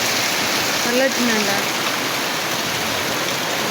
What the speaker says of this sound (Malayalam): നല്ല മഴ, പെരുമഴ നല്ല മഴയാണ് കേട്ടോ